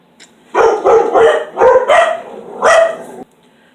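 Dogs in a house bark in a rapid string of about seven loud, close yaps over roughly three seconds, then fall silent.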